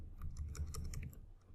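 A short, quiet burst of computer keyboard typing as a terminal command is entered, with a quick run of light clicks heard alone.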